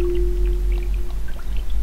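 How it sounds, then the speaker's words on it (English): Water steadily fills a bucket in the game Rakuen, a soft continuous rush over a low steady hum, no voices. "Fill the bucket with water,"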